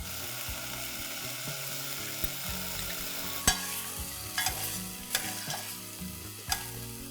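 Tomatoes cook in a pan with pepper, cumin and garlic for a South Indian pepper rasam, a continuous close sizzle punctuated by several sharp spoon taps and stirring clinks, with no one speaking.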